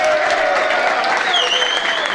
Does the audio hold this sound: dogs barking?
no